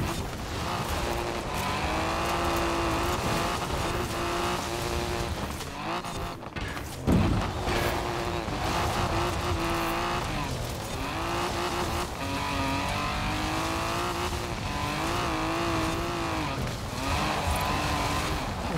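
Race car in Forza Horizon 4 sliding through a lap, a steady loud engine drone with shifting pitch and tire squeal, continuous for the whole stretch with a brief dip partway through.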